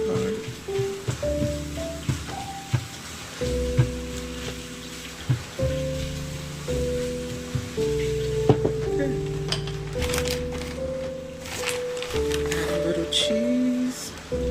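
Home fries potatoes frying in a pan give a soft, steady sizzle. Occasional sharp clicks and scrapes from stirring sound under a prominent tonal music bed.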